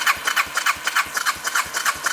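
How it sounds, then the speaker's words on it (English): A 1986 Honda VT500C motorcycle engine cranks over on its electric starter button, a steady rapid chugging rhythm of evenly spaced compression pulses running throughout, fairly loud and close, without firing. "I'm just gonna go ahead and turn the motor with the button to see if we have spark"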